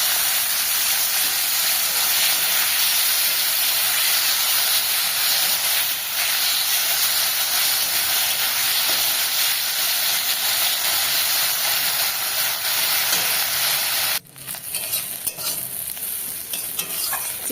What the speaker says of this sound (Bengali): এবার আমি চিংড়িগুলো সেম ওইভাবে ভেজে নেব